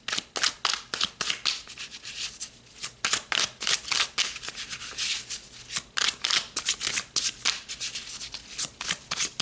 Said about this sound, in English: So let's pull some more cards for you guys.